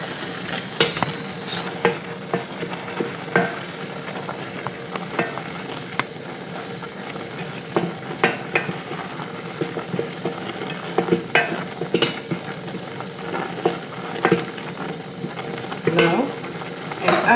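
Pumpkin leaves and spring onions are stirred in a pot over a low simmering hiss, with irregular spoon scrapes and soft knocks against the pot recurring throughout, close and moderately loud.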